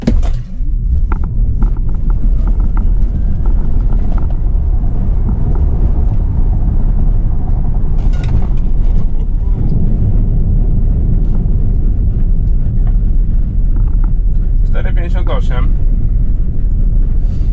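A 2022 Tesla Model Y Performance electric car launching hard, a loud steady low rumble of tyre and road noise filling the cabin, with people talking over it.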